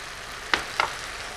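Lamb and onion frying in a pan as soy sauce goes in: a soft background sizzle with two quick, louder bursts of hissing spitting up close.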